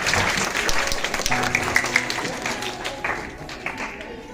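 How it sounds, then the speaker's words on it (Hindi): Audience applause welcoming the guests at a Christmas Day function at Bhai Kanhaiya Aashram, a steady burst of many hands clapping throughout with a voice speaking over it. "तो जोरदार तालियों के स्वागत हो जाए सभी अतिथियों का एक बार फिर से।"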